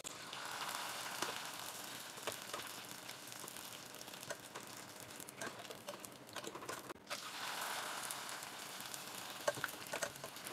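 Rice chicharon crackers fry in hot oil with a steady, crackling sizzle, close and moderately loud, swelling and easing over several seconds with a few sharp pops.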